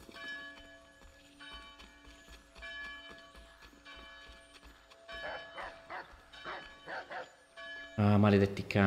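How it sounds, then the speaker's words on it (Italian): Dogs barking repeatedly in the video game Assassin's Creed 3 Remastered, with yips, whimpers and a ringing bell mixed into the game's ambience while someone talks over it. "Maledetti cani."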